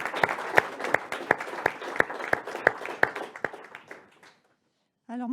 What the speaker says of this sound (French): on peut vous applaudir pour l'investissement très fort que vous avez pour la commune